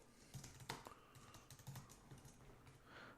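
Quick, light clicks of a computer keyboard being typed on, in short irregular bursts with brief pauses, fairly close and quiet, with no talking.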